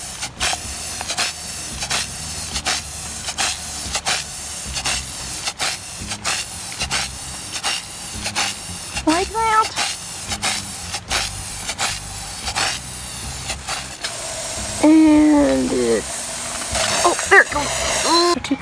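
Rust-Oleum Universal metal spray paint hisses from an aerosol can onto kitchen cabinets in a series of short, loud bursts with brief pauses, and a voice speaks near the end.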